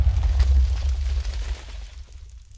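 A Minecraft house blown apart by a trail of explosives, a loud deep rumbling blast that rolls on for a couple of seconds and then fades out.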